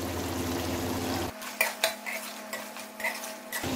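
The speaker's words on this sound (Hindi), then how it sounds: "अब मैं इसको अच्छे से भून लूंगी" Green chillies and salt being stirred and fried in a karahi for chicken karahi, with a low hum fading out, then several sharp metallic spoon scrapes and clinks against the pan alongside a faint sizzle.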